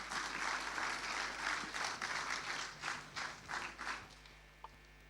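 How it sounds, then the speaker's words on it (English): Audience applause after a round is called for the French Minister for Europe and Foreign Affairs at a Lagos mobility project launch; steady, moderately distant clapping that tapers off toward the end. "Please join me with a resounding applause"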